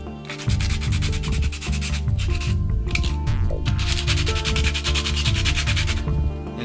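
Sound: sanding plastic with medium wood sandpaper

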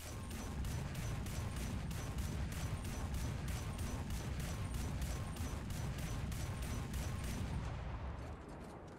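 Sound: 57mm autocannon firing in War Thunder video game

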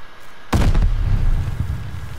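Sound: gunfire in a shooter video game

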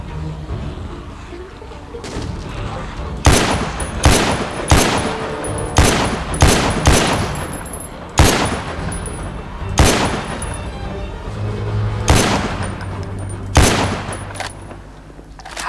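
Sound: gunfire in the video game The Walking Dead Survival Instinct

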